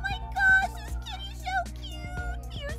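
A cat meows repeatedly in short, tonal calls, heard up close with a loud voice talking over it.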